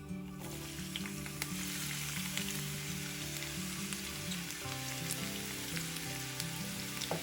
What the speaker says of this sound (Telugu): 2 ఉల్లిపాయల్ని ఇలా ముక్కలుగా కోసుకుని వేసుకోండి.